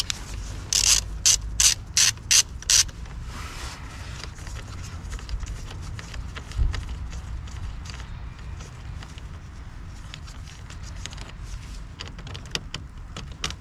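A hand ratchet wrench clicks rapidly through a short burst of turns while a battery terminal bolt is undone on a Renault Clio 4, followed by a low mechanical rumble and sparse faint clicks.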